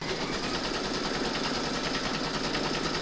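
An embroidery machine stitches the placement outline for a piano-shaped coaster, a fast continuous rattling hum running steadily for a few seconds with no talk, then stopping abruptly.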